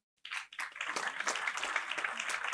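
Comedy club audience in Cannes breaking into applause, a dense, sustained burst of many hands clapping that starts abruptly and holds steady, fairly close and loud, with no voices over it.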